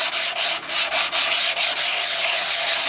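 A rock rubbed by hand across an abrasive grit pad gives a steady, close, raspy scraping with quick back-and-forth strokes and brief dips between passes, with no voices.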